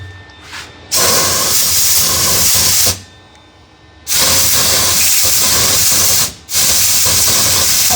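Compressed air blasts debris off a freshly welded cable in three long, loud hissing bursts with short quiet gaps between them, close to the listener.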